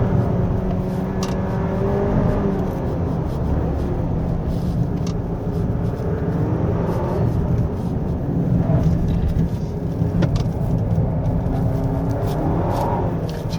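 A 2024 Hyundai Sonata N Line 2.5T accelerates hard through a corner on a winding mountain road. A steady engine drone and rumble hold at even loudness from start to finish, with road and wind noise, and no talking.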